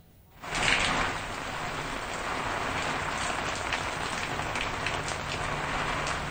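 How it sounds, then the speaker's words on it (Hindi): Heavy monsoon rain pours down steadily in Shahjahanpur, a dense, continuous hiss of downpour hitting surfaces that starts abruptly and holds loud and even throughout, with no voices. "लगातार वहां पर बारिश हो रही है"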